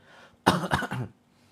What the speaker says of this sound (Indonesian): batuk-batukan